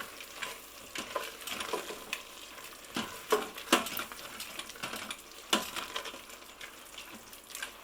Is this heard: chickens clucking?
no